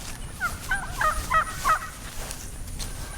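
Turkeys on a small farm with toms and hens, gobbling in a burst of several rapid warbling calls at fairly close range. The calls are followed by quieter background noise.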